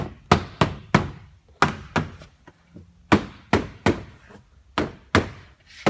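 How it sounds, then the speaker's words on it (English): Loud, sharp hammer blows strike a Toyota FJ Cruiser car door, about a dozen hits in uneven bursts, close by with no talking. "This is where it helps to have the hammer of Thor in order to finish this job off"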